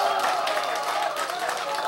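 An audience at a lecture claps and cheers together, a dense, continuous roar of hands and voices at moderate loudness for under two seconds.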